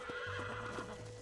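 A horse in the video game Red Dead Redemption whinnies in a rising, wavering neigh over steady background music, close and fairly loud, lasting about a second.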